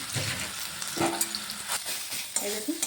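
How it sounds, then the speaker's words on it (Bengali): Ash gourd with a little salt fries in a pan for a bhorta, sizzling steadily while a utensil scrapes and stirs in several distinct strokes, close and clear. "ভেজে নিচ্ছি।"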